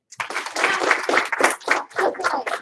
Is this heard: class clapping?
yes